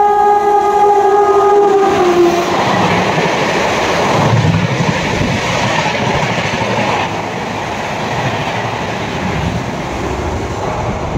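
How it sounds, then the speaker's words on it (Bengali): The Shatabdi Express passes a station platform as a loud, sustained rumble and rush of rail cars. A horn blares at the start, then the roar continues steadily throughout. "প্রতিদিন এই 6:21 শতাব্দী এক্সপ্রেস পাস করে"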